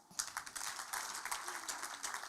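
Scattered clapping from an audience at a national HIV/AIDS symposium, a few distinct claps that thicken into brief, moderately faint applause.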